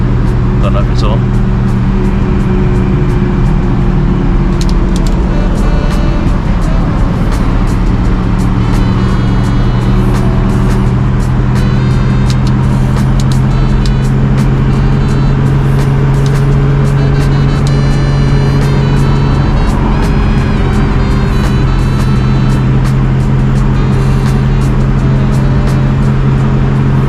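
A 1954 Wolseley 6/80 vintage British saloon with a straight-six engine, driving at a steady cruise, its droning engine note loud and close from inside the cabin, with someone talking at times over it.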